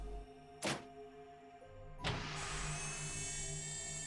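A door opens in the game Virtue's Last Reward: a quiet mechanical hum, a sharp thunk, then a second heavy clunk that gives way to a sustained whirring slide.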